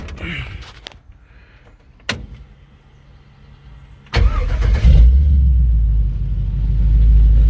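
A few clicks and a short crank, then a 1972 Chevrolet C10 pickup truck with an LS engine swap catches and settles into a loud, deep rumbling idle, close by.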